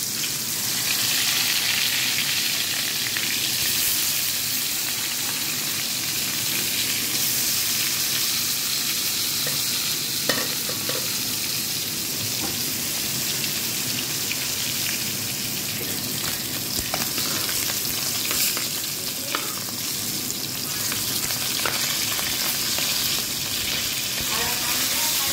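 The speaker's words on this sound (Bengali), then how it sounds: "আমার ডাল রান্না শেষ, এখন এই যে মাছগুলোকে একটু ভাজি করে নিব।" Fish frying in a pan in a home kitchen, a dense, continuous sizzle and spatter with occasional louder pops and faint stirring, steady throughout and close by.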